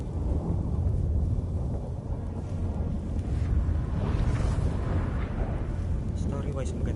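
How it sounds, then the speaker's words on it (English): Thunderstorm in The Witcher 3 game, a deep continuous rumble of thunder and storm noise filling the scene with a steady heavy roar and some brighter crackling swells, no voices. "That a storm?"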